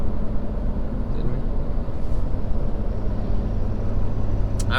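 A Ford Powerstroke diesel pickup is towing a 14,500 lb load uphill in sixth gear. Its engine and road drone fill the cabin steadily and loudly, with a voice talking over the top.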